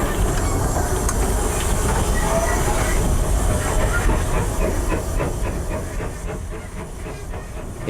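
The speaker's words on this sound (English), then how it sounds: "I have to shut the regulator down because the steam pressure in the cylinders is stopping me from pulling the valves back." A GWR steam locomotive runs through the Gloucestershire countryside at the foot of the Cotswolds, its loud, steady steam hiss mixing with a rhythmic rail clatter close at hand throughout.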